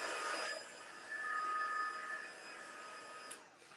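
A heat tool drying a mixed media scrapbook page blows a steady, fairly loud whirring hiss that holds almost unbroken and then cuts off near the end, with no voices.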